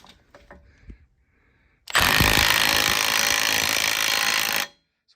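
A power tool tightens a nut with a built-in lock nut during a 5.7 Hemi engine swap into a 2011 Charger. After a few quiet knocks it bursts into a loud, steady, buzzing rattle for about three seconds, then stops abruptly.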